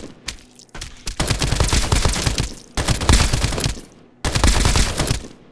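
Elemental laser assault rifle from the video game Escape from Duckov fires in three loud, rapid automatic bursts, each a dense rattling volley of shots separated by short pauses.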